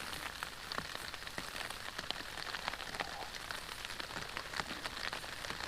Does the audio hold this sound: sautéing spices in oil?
no